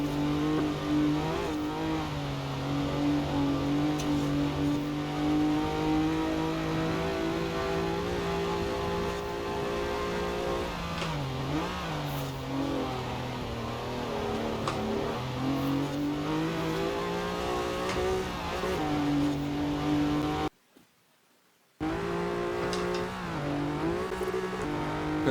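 A ZR2 truck engine in Forza Horizon 4 roars and revs continuously during an off-road race, its pitch rising and falling with gear changes. The sound cuts out for about a second near the end, then resumes.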